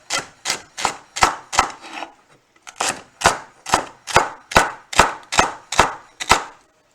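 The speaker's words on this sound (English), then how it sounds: "Then I make diagonal slices like that. Slice diagonally." A knife slices food diagonally on a cutting board in a series of crisp, evenly spaced chops, about thirteen close, loud strikes with a short pause after the first few, then a steady rhythm resuming.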